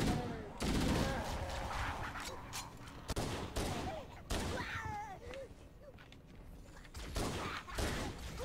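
Gunfire in the Halo Master Chief Collection game rattles out in dense bursts and volleys, loud and continuous, mixed with explosions and game effects, while a player's voice breaks in at moments.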